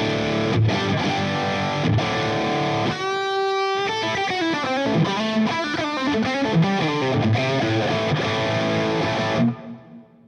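Distorted electric guitar played through a Boss Katana amp into a Two Notes Torpedo C.A.B. M cabinet simulator, with chugging chords, a bright sustained chord in the middle and a final ring-out into silence.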